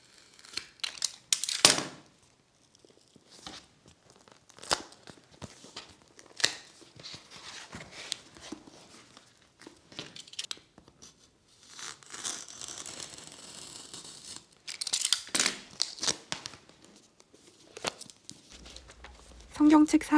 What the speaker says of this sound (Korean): 성경책의 맨 앞장과 뒷장을 활짝 펼쳐서 2-3mm 정도 여유를 두고 칼로 조심스럽게 잘라줍니다.